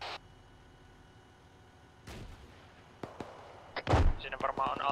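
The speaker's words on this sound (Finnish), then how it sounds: "Bensa-asemalle losauttaa RPG:t." RPG rockets fired at a gas station in a video game: a quiet hum gives way to sharp blasts around the two- and four-second marks, the last a deep, loud explosion followed by scattered crackling debris.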